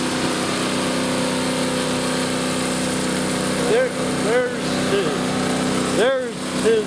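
A small engine drives a homemade high banker dredge combo beside a stream, a steady continuous drone with voices talking over it.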